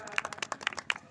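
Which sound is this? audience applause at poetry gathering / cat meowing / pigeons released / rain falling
audience applause at poetry gathering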